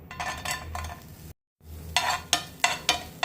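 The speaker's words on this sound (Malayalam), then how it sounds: "പാൻ ചൂടായി വരുമ്പോഴത്തേക്ക് കുറച്ച് വെളിച്ചെണ്ണ, കുറച്ച് സവാള ഇട്ട് കൊടുക്കാം" Onion sizzling in coconut oil in a hot pan, a close crackling hiss broken by a brief silence, then sharp stirring scrapes and clinks repeating about every half second.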